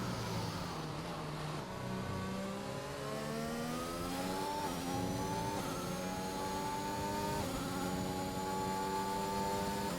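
A race car engine in a racing video game drones loudly and continuously, its whine rising through the gears with brief throttle lifts and pitch dips, with no talk.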